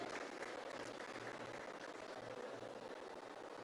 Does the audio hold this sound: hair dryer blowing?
no